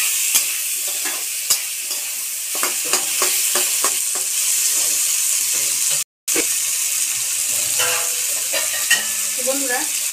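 Spices and chopped tomato frying in a pan for a Bengali home lunch, with loud, close sizzling broken by repeated scraping stirs and clicks and a momentary dropout partway through.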